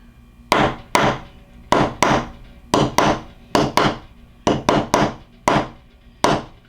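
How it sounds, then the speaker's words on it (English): Sharp, hard strikes hammering a metal stamp into jewelry metal, about a dozen blows in an uneven rhythm, close and loud with brief pauses between hits. "The way that you hammer it doesn't really matter, as long as it is a hard enough hit."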